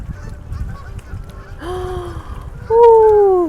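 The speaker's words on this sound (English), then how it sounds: "Oh, look at this beautiful sight of all those geese." Canada geese honking overhead outdoors by a muddy field, a few loud, close nasal honks with rising-falling calls, the final honk strongest and sustained.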